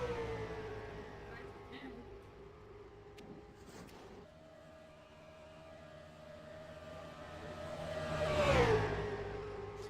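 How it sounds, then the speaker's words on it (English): A stock car engine winds up on a qualifying lap, a faint sustained whine climbing in pitch and swelling to a loud pass near the end, with commentators talking over it. "He's trying to get the engine wound up to speed."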